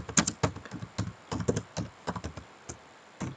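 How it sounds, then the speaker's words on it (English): Keys clatter on a computer keyboard while text is typed in Microsoft Word. The taps are close and crisp, in irregular quick bursts with short gaps, and no one speaks. "press the enter key, then we type here table"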